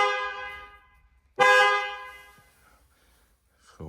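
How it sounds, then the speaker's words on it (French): Car horn on a Renault Clio Cup rally car sounding in two blasts, a longer tone then a second louder honk that fades, with a brief third toot starting at the end. "klaxon."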